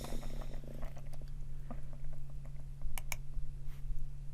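Quick, light clicks from a computer mouse or keyboard, used while working in Empiria Studio protein analysis software, tapping close to the microphone over a steady low electrical hum.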